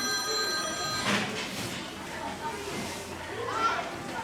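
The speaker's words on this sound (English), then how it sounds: "Like somebody is calling me right now. Let me answer the phone." A telephone rings in a school classroom setting, a bright repeating bell-like tone in the opening second, then fading as background chatter and room noise continue.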